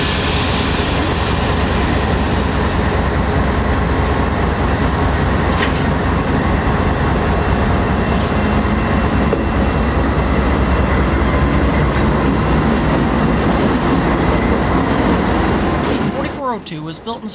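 A freight train led by KCS ST70 ACE locomotive 4030 rumbles past close and loud, a constant heavy roar of engine and rolling cars that thins out near the end.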